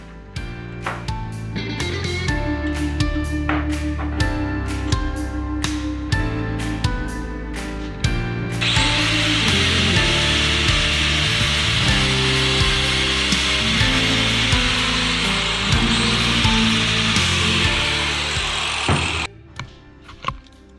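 A saw cuts through braided AN hose for a custom fuel line, first a rapid series of close, rhythmic strokes, then a continuous loud grinding buzz of a power cutting tool that stops abruptly near the end.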